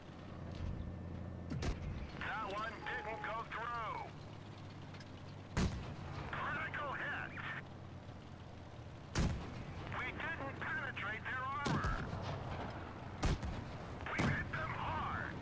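Tank cannon shots in World of Tanks Blitz, a Valentine II battle: several sharp, loud blasts spaced a few seconds apart over a steady engine drone, with voice-like chatter between them.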